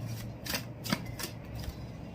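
Tarot cards being shuffled by hand, a close series of soft papery riffles and flicks in an irregular rhythm, moderately quiet with no voice.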